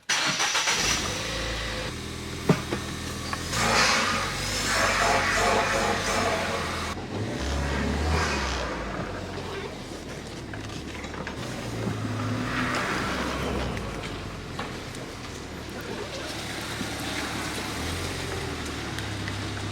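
A Ford Fiesta ST180 trackday car fitted with a quick shift, induction kit and torque bracket starts up and drives, its engine rumbling and revving in surges, then settling into a steady drone, close and loud, with no talking.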